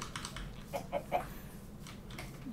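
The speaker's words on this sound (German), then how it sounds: "Kommt dich die Hühner besuchen?" A few short, soft clucks from chickens in Minecraft over a quiet background hum, with light clicking sounds nearby.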